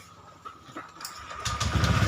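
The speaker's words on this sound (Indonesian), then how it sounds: "coba kita hidupkan motor" A Honda Vario 125 scooter engine is started up nearby, beginning quietly and then catching into a louder, steady running rumble.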